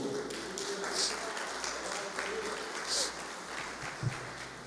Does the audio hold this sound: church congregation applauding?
yes